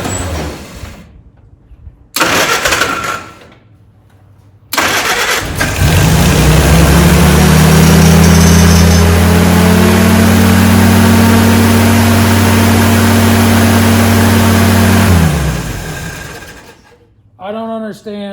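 A 1947 Willys engine cranks in short bursts, catches and settles into a loud, steady idle for about ten seconds before shutting down, followed by brief talking nearby.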